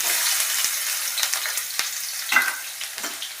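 Onion, dry red chili, cloves and curry leaves fry in hot oil, a steady bright sizzle with a few sharp crackles and spatters rising above it.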